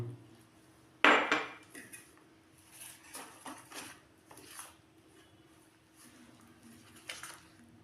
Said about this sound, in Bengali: এখন আমি অল্প অল্প জল দিয়ে ব্যাটারটাকে গুলে নেব